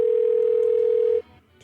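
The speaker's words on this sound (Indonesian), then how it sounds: "Kita telepon dulu orangnya." Steady telephone dial tone from an outgoing call placed live on a radio show, a single continuous tone held loud for just over a second before cutting off into quiet room noise.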